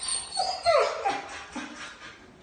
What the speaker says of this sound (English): So this is my dog at the vet. He gets really excited.